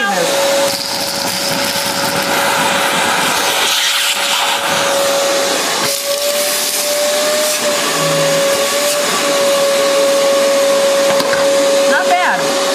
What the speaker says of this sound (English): we take a shop vac and we just vacuum up those beans